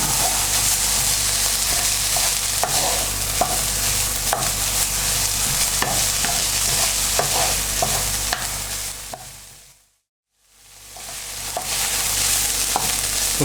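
Bacon frying in a pan for corned beef hash, a steady close sizzle and crackle with occasional stirring scrapes and small pops, cutting out briefly near the end before the sizzle returns.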